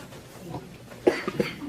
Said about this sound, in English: we're all coughing today because of that smoke